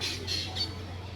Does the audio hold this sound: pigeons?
yes